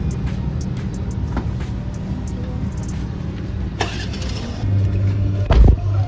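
A car rolls up and pulls away at the start of a sightseeing tour in Port Blair, Andaman, a steady close engine rumble with road noise and a louder low surge near the end.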